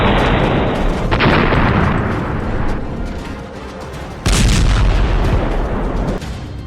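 Heavy rumbling blasts from explosives blowing up a mine-clearing bulldozer, with two sudden loud bursts a few seconds apart, each followed by a roaring wash of noise.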